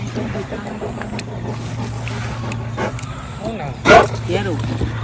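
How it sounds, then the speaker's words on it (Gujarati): A small dog gives a short burst of sharp yaps, close and loud for a moment near the end, over a low steady hum, with people talking in the background. "આ અમારું નાનકડું એવું કૂતરું છે"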